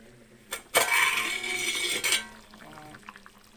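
Pot and plate lid lifted with a cloth over a simmering Godavari-style fish curry: a sharp metallic clink and scrape, a sustained hissing burst of steam and sizzle, then a second clatter as the lid settles, fading into quiet bubbling.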